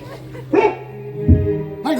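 Barks and yelps come from a dog, likely a voice imitating one, during a live Marathi comedic folk play on stage. A few short bursts are spaced apart, loud and close, with a sustained voice-like tone between them.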